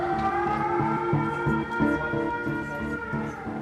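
A man imitates a police siren with his voice, a sustained wavering wail with pulsing low tones that holds steady throughout.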